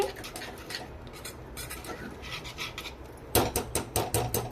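Semolina, yogurt and sugar batter for dhokla is stirred in a bowl with a utensil, giving a soft, steady rasping scrape that turns into louder, rhythmic strokes near the end.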